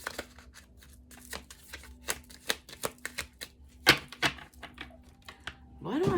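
Tarot cards are shuffled by hand in a quiet room, a run of crisp close taps and riffles at an uneven rhythm, with a steady faint hum behind them.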